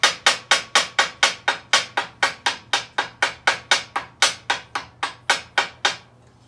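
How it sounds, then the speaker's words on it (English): Tiny ball peen hammer tapping out a gasket around bolt holes, about twenty sharp, evenly spaced metallic taps in a steady rhythm, close and distinct over a faint low hum. "I've had people ask me what I use this tiny, tiny ball peen hammer for."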